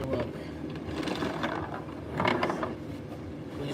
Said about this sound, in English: You press this little blue button on top, and it retracts the cord.